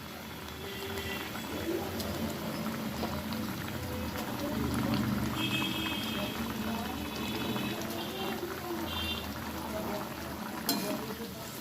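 Rohu fish gravy with poppy seed simmering in a pan, a continuous bubbling boil with soft liquid movement and a few faint clinks, close and steady, with a voice talking faintly at times.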